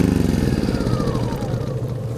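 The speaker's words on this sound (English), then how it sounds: "The sound you hear now is just my diesel heater exhaust." A diesel heater's exhaust makes a steady low rumbling engine-like drone with a rhythmic chugging pulse, close and continuous, no voices.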